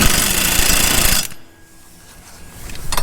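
Impact wrench tightening lawn mower blade bolts in a shop, a loud continuous rattling hammer burst for just over a second that cuts off abruptly, followed by quiet room tone and a faint clink.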